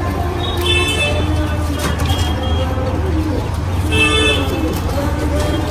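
Golden Kamagar pigeons coo amid a noisy setting, their low calls partly buried under someone talking, with vehicle horns tooting in the background.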